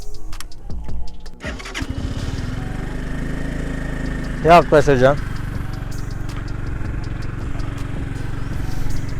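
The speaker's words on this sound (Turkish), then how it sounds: "Şimdi motorumuzun sesi gayet hoş." An RKS RNX 125 motorcycle engine cranks and catches, then settles into a steady idle with a brief throttle blip, while someone talks nearby.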